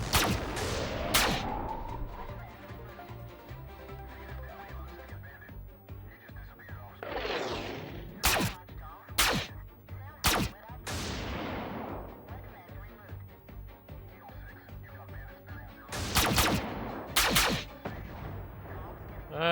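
Gunfire from the strategy game Xenonauts 2: a handful of sharp, loud blasts in small bunches, separated by whooshing sweeps and a low hum of game ambience, with no talking over the shots.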